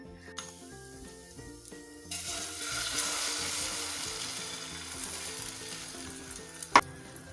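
A veggie bread slice sizzles in hot oil in a pan. The crackling frying swells up after a couple of seconds and runs steadily over soft background music, with one sharp utensil clink near the end.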